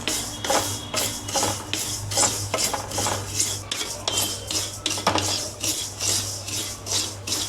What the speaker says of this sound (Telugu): నేను ఏం చేస్తానంటే రెండు మూకుళ్ళు పెట్టి సైమల్టేనియస్గా వేపేసుకుంటాను, తొందరగా పని అవుతుందని